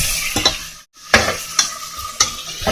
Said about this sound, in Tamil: இது நல்லா இந்த பச்சை வாடை போகிற வரையிலும் நல்லா வதக்குங்க.